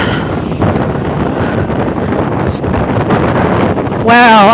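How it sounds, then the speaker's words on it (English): Strong wind roars and buffets the microphone in a constant heavy rumble, with a brief tonal squeal rising near the end. "it is really, really windy"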